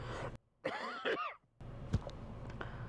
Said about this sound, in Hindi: तो खांसी हो रही है भाई